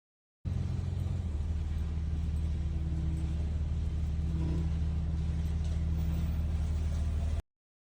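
A loaded truck carrying scrap water heaters strapped down in its bed drives along, its engine a steady low rumble with constant road noise throughout, no talking.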